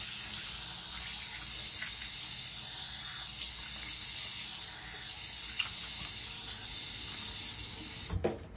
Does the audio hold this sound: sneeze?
no